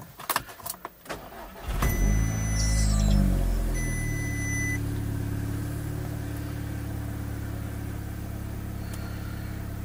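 An Audi S3 with a crank sensor fault cranks and starts: brief clicks, then the engine catches loudly around two seconds in and settles into a steady, close idle.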